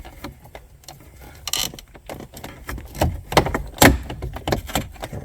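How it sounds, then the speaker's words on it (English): A pry bar works loose car interior trim around a surround, giving scattered plastic clicks, creaks and sharp snaps that build toward a loud pop near the end, with no talking. "Stick the pry bar in and apply some"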